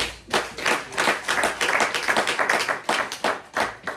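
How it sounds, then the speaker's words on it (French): A church congregation claps together in a steady, loud rhythm of sharp hand claps, many hands striking almost in unison, with little talk over it. "Applaudissez le Seigneur."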